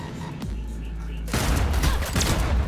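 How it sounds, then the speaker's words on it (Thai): Rapid gunfire bursts from the video game Cyberpunk 2077 erupt loudly after a quieter stretch of steady hum, continuing as a dense, sustained volley. "ยิงไม่โดนขออีกดอกขออีกดอก"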